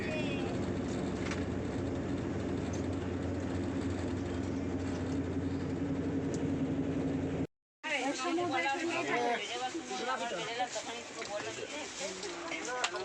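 Inside a moving train's second-class AC carriage, a steady rumble and rattle of the wheels runs throughout, close and continuous, with voices talking over it.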